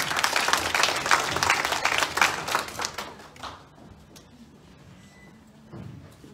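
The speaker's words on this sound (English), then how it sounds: "Can you clap our hands as he comes?" A church congregation claps hands during a Sunday service, a dense burst of applause for about three seconds that then fades to scattered claps and room noise.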